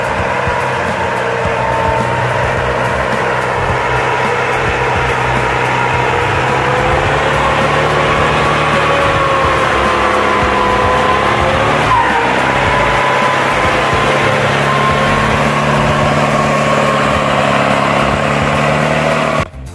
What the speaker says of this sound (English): letting the skidder move at the right pace